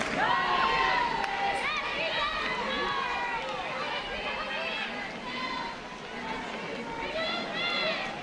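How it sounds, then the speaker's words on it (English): Crowd noise at a professional softball game, a broad murmur of chatter and cheering from the stands running under a play-by-play voice. "what a great crowd"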